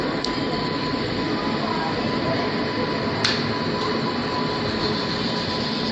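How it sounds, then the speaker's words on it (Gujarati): The Sayajinagari Express, arriving from Mumbai and bound for Bhuj, rolls past close by in a loud, continuous roar of wheels and carriages, with a brief sharp squeal cutting through midway. "હા, સયાજીનગરી મુંબઈથી આવી અને ભુજ તરફ જશે."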